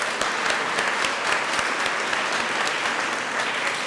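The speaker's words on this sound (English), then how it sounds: "let's give yourself a round of applause" An audience applauds at a 2010 College Day gathering of around 420 people, a steady, dense wash of many hands clapping together, loud and continuous without a break.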